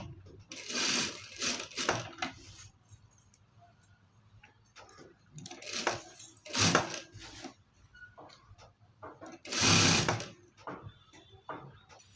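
A sewing machine attaches piping to the neck of a chudidar, running in three separate bursts of rapid stitching with quieter ticking and handling between them, fairly close, with no voices.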